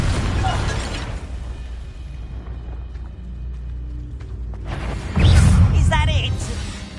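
A spell blast exploding in a video game, building after a quiet stretch into a loud, booming burst with crackling debris near the end, over game ambience.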